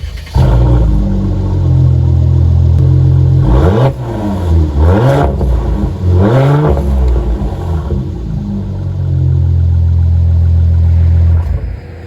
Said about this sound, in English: It has a tuned exhaust, which sounds pretty damn good.